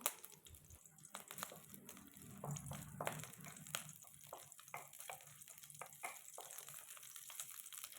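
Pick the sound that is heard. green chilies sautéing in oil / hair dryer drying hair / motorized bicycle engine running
green chilies sautéing in oil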